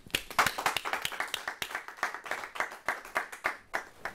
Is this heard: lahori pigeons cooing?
no